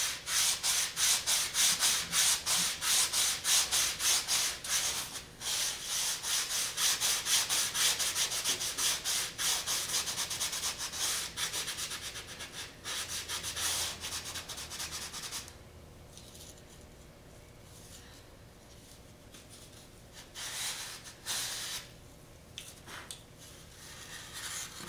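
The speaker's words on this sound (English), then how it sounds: "I made myself a little block that I made like a half airfoil shape that I covered with sandpaper." Carbon fiber sanded inside a mold with a sandpaper-covered half-airfoil block: dense, rapid scrubbing strokes up close, easing into quieter intermittent rubbing and scratching in the second half.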